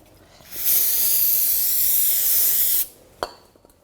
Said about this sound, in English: a little brake parts cleaner on the back side, and wipe it down